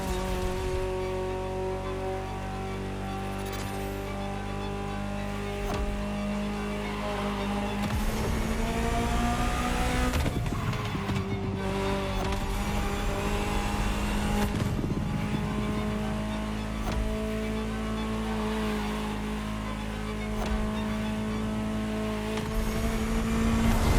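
Ferrari F50 engine in The Crew Motor Fest racing game, a steady loud drone with sustained harmonic tones that dip and climb as the car shifts and accelerates, continuous and close throughout without talk.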